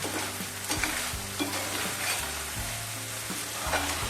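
Dried shrimp frying in oil for a prawn pickle, a steady close sizzle and crackle with rhythmic low scraping of a spoon stirring in the pan throughout.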